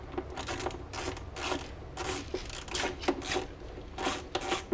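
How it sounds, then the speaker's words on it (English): Bolts being unscrewed from a Kawasaki SX jet ski intake grate: repeated ratcheting, clicking metal bursts in uneven rhythm, close and moderately loud over a low rumbling background. "So we just need to unscrew 3 M8 bolts, or M6, I guess M6."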